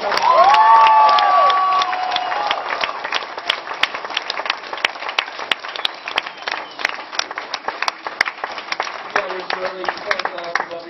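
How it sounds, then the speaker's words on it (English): A large crowd at a metal band's fan event breaks into loud, sustained applause and cheering that fills the room. A voice rises over the start before the clapping carries on alone as dense, crackling claps. "Give me a huge round of applause."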